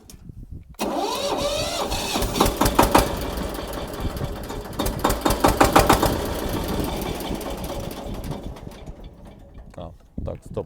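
A Kentavr 200V walk-behind motor tractor's engine starts abruptly and runs loud and close, rough and pulsing, with knocking bursts before fading near the end, while a person talks over it.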